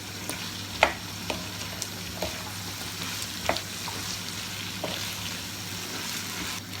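Small potato cubes sizzle steadily in a frying pan, with a continuous close hiss and a few sharp scrape-and-knock stirring clicks scattered through.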